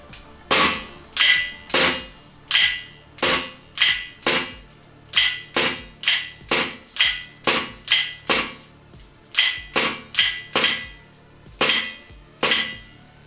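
VFC SIG M17 gas blowback airsoft pistol with a full AMG kit firing in the cold, about twenty loud sharp cracks at an uneven pace, each with a metallic slide clack, close and without voices.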